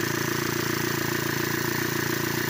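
A Ford Territory engine with turbo and EGR valve issues runs unevenly, making a steady, close mechanical clatter with a fast regular pulsing throughout and no voices.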